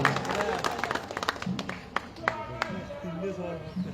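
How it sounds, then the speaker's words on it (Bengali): Scattered applause from a school audience for the fathers, with a handful of sharp claps standing out over a steady background of voices and room murmur. "আমরা একটি করতালি দেব বাবাদের জন্য যারা বাবা হয়েছে"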